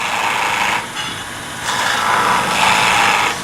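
A skew chisel makes a planing cut on spinning wood on a lathe: a steady hissing scrape that fades briefly, then returns louder and keeps going to the end.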